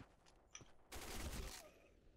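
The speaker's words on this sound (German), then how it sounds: "Ein Schuss, 100 HP im Kopf." Gunfire in the first-person shooter Black Squad during a fast team deathmatch on the Avignon map: a faint crack, then a dense burst of rapid shots lasting about a second, distant and low in level.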